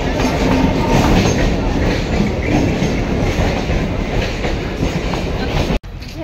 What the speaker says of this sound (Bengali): ট্রেন যাচ্ছে, ট্রেন।